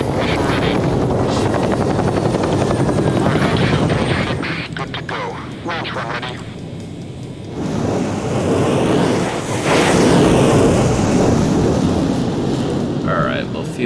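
A Chinook helicopter on a carrier deck in the video game Carrier Deck, its rotor thrum and whine swelling and fading over windy, surf-like background noise, with a voice talking over parts of it.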